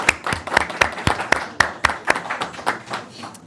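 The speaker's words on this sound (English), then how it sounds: "Now the round of applause for our student greeters." A small audience at a school board meeting claps for student greeters: close, sparse, irregular hand claps in a brief burst, with no voices over them.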